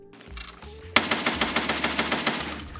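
Automatic rifle firing M62 rounds in the hideout range of Escape from Tarkov, a sustained burst of about fifteen rapid, evenly spaced loud shots after a short quiet mechanical lead-in.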